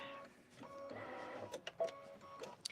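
An embroidery machine sews a decorative stitch with a quiet, whirring, printer-like motor hum that shifts in pitch as it moves, ending in a few soft clicks and taps.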